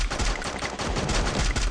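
Rapid gunfire in a competitive shooter game played on an emulator during a championship match, a dense run of sharp, loud shots in quick succession filling the whole stretch with no voices over it.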